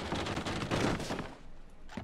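A gunshot in the Red Dead Redemption roleplay video game cracks out as a loud, dense burst of shots, fading into a brief rumble before one more short report at the end.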